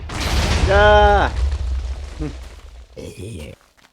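An explosion in the game Vinyl Fantasy II, a deep booming blast up front that rumbles and decays, followed by scattered game sounds and a short tonal effect.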